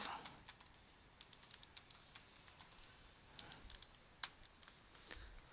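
Quick bursts of clicking keystrokes on a computer keyboard while coding a Python loop and list comprehension, close and fairly faint, with brief pauses between runs of typing.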